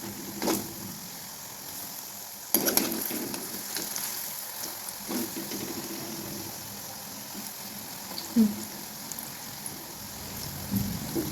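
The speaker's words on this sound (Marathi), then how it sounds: "असं भजीला थोडंसं आलटून पलटून छान असं लालसर भाजून घ्यायचे" Bhaji fritters deep frying in hot oil for kadhi bhaji while being turned, giving a steady low sizzle with a few sharper crackles and clatters, heard alone with no talk.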